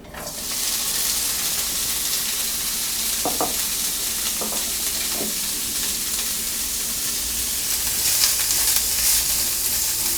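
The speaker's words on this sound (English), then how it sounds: "So let's go ahead and drop the sausage in." Andouille sausage pieces frying in a hot pan for paella or dirty rice give a loud, steady sizzle and hiss throughout, with a few soft stirring scrapes early on and no speech.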